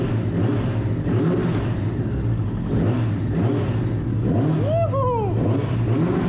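Suzuki RF900 motorcycle with a new engine on its first start-up, revving loudly and close in repeated rising and falling bursts, followed by a brief excited shout.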